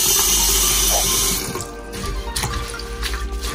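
Rosemary sprigs are rinsed under a running kitchen tap, and the water pours loudly and steadily into the sink, then drops to a softer, uneven splashing with a few drips.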